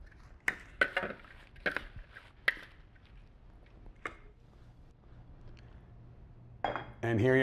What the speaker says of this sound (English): And you want to toss your salad around.